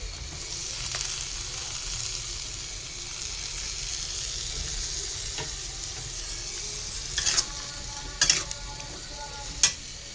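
Malabar spinach stalks and greens sizzle steadily in a hot pan, a continuous frying hiss broken near the end by a few sharp clatters of stirring, with no talking.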